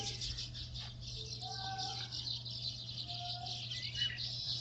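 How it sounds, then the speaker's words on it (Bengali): Many birds chirp and call together along a rural path beside a canal, a steady dense chorus of tweets with occasional clearer calls, faint and somewhat distant, with no one talking. "আশেপাশে কিন্তু প্রচুর পাখির ডাক এখানে বিভিন্ন ধরনের পাখি রয়েছে"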